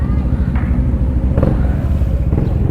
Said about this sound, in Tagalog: Anong motor yan?